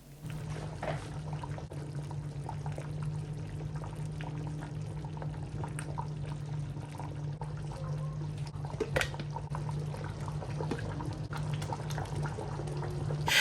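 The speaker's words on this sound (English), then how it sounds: "Allow it to boil for the next 15 minutes or so." Soup with tomatoes and onions boils in a pot on low to medium heat, a steady close bubbling and simmering that continues without a break.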